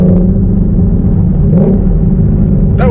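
A Shelby GT350 V8 engine holds around 3,000 RPM on track mode, a steady loud low rumble filling the cabin with a brief rise in revs near the end.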